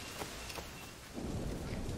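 Thunderstorm at sea in the video game Assassin's Creed IV Black Flag: dense rain hiss with a low rumble of thunder swelling partway through, loud and continuous with no voices.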